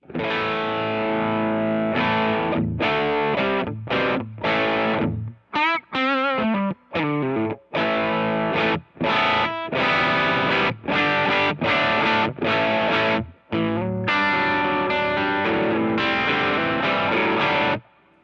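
Gritty, clipped electric guitar chords through a Grammatico GSG100 amp with added clipping diodes strike in short rhythmic bursts with brief gaps, then settle into longer sustained strums, loud and fuzzy.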